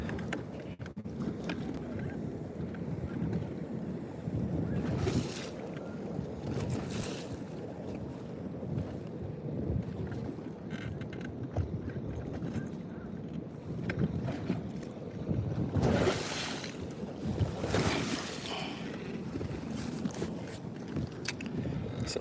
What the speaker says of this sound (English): I don't know how much longer we're gonna stay in this location if these big boats keep coming by.